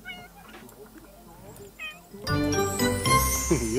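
A cat in The Sims 3 video game gives a few short meows amid soft game sounds, before a louder burst of busier game noise takes over.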